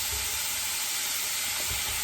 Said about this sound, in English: Get it all chopped up here and frying.